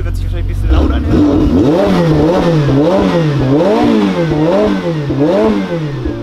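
Mid-engine Ferrari 488 Pista with original exhaust revving repeatedly in rhythmic blips, loud and close beside a wall, with a voice talking over the first moment.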